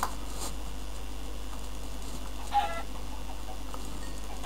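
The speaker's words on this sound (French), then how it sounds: "on tue le poulet, tue le poulet, pour le poulet" A Minecraft chicken gives a few short, quiet clucks spaced seconds apart over a steady low background hum.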